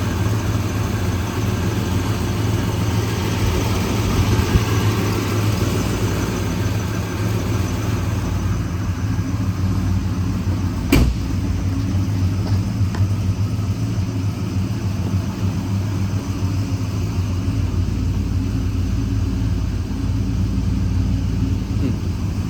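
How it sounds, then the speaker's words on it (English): A 1970 Plymouth Road Runner engine idles with a steady low rumble, constant and close, with one brief click partway through. "Engine sounds great."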